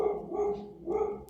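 Dogs bark at a neighbor's cat, giving two short barks about a second apart, fairly close and loud, with no one speaking.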